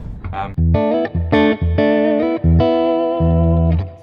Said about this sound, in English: I think that's actually the plate reverb sound for my ears